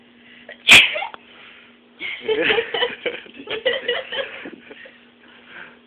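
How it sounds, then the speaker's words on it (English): A woman gives one sharp, loud sneeze after tickling her nose with toilet paper, followed by a few seconds of chuckling and laughter close by. "How to make yourself sneeze."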